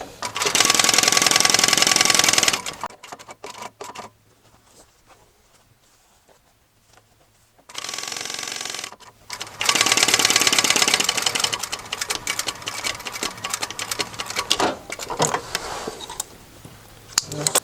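An electric sewing machine stitches a half-inch seam on fabric for a bolster cushion, loud rapid whirring bursts separated by short pauses and quiet handling, running steadily for long stretches close by.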